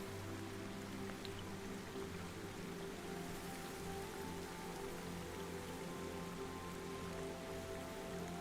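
Steady rain falls on a road in a calm fantasy setting, a dense, even patter heard close and alone for the whole stretch, with no voices or other sounds.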